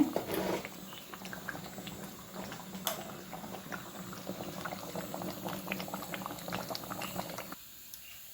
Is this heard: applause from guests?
no